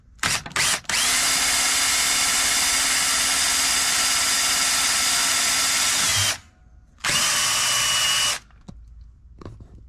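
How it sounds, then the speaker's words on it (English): A power drill whirs loudly and steadily for several seconds, turning the priming shaft of a 1971 Plymouth Duster big-block engine counterclockwise, stops briefly, then spins up again for a shorter run before cutting off. "Got the drill tight on the priming shaft."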